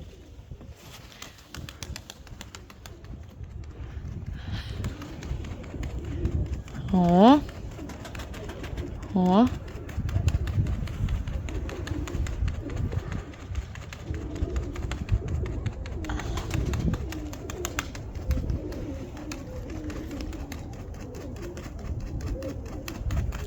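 Pigeons coo softly outdoors during a training session amid a low rumble of wind, with occasional wing flaps and brief exclamations from people nearby.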